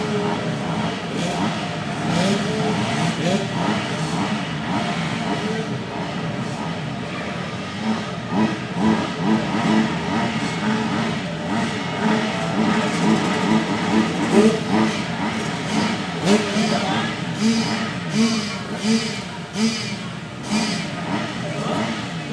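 Race motorcycles rev on the start line at a Cessnock Motorcycle Club meet, engines buzzing and blipping steadily under a commentator's voice throughout.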